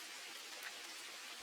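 Steady rain patters on a cabin as a soft, even hiss of drops on the surface, faint and continuous throughout, with no voices.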